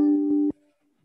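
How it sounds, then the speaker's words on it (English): Acoustic violin strummed once, a sustained bright chord ringing for about half a second with a few soft plucked attacks before cutting off to near silence. "I'll just strum this acoustic violin."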